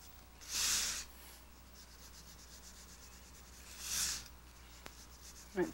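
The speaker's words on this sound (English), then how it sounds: "Now you want to take your eraser and just erase over the top of that." Eraser rubbing over a paper mat to lift paint crumbs and lines, two soft, brief scrubbing passes separated by quiet, close and faint.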